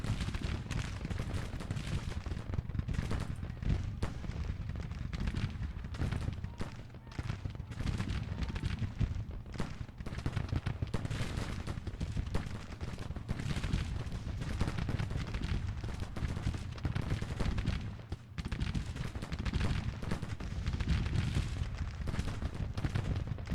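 Massed musket volleys and artillery booms roll on without pause in a Civil War battle from Grand Tactician The Civil War, a steady, loud crackle of distant and near shots blending into one long din.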